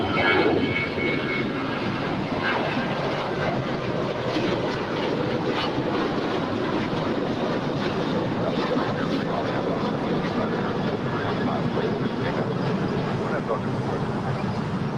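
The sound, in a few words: Boeing 747 cargo jet departing LAX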